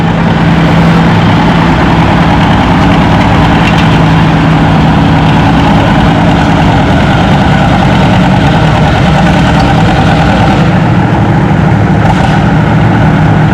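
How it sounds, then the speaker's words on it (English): A John Deere 730 tractor hooked to the big sled at a tractor pull roars with a loud, steady, low engine drone that holds nearly unchanged throughout, with no clear speech over it. "Next hook on the big sled, we got a John Deere 730"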